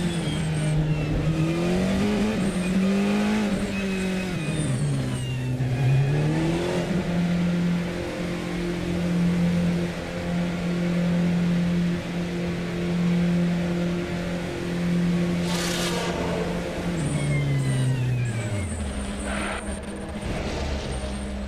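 GT3 race cars lapping Mount Panorama at Bathurst in a racing video game, a loud engine note rising and falling through gear changes as one car accelerates and brakes, another engine passing briefly, with no talk.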